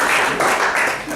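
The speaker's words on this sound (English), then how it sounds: "I think you deserve a round of applause." Audience at a livestock auction-calling competition gives a short, moderately loud burst of clapping that swells and fades in quick waves.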